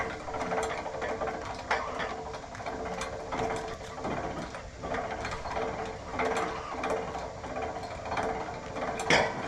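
A 1,000-pound winch hauls a log up loading ramps, giving a steady close mechanical whir with repeated ratcheting clicks and clanks that stay fairly even throughout, with no talking.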